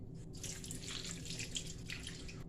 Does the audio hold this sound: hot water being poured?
yes